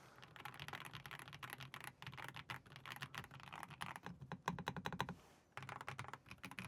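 Rapid, clicky keystrokes rattle close by on a Redragon K719 PRO mechanical gaming keyboard with magnetic switches, coming in quick irregular bursts with a brief pause near the end.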